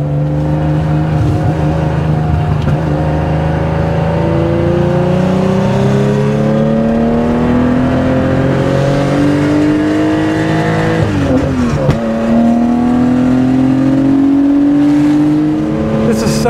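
A 1972 Porsche 911 T with a 2.8-litre fuel-injected engine pulls hard on a track, its loud, close engine note climbing through successive gears with a brief dip at a shift before rising again, steady and continuous.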